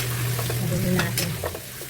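Close, continuous sizzle of marinated sirloin and spare ribs frying in a pan for beef caldereta, with scraping stir strokes and a faint background hum.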